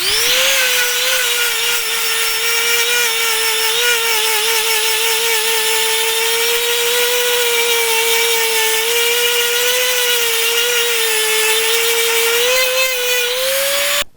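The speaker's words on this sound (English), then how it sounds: "we're going to go ahead with the sander, the electric sander, and we're going to start sanding this all down" An electric sander grinds across fiberglass resin on a sailboat rudder, a loud steady whine with a wavering tone that holds for the whole stretch, close and unbroken, with no voices over it.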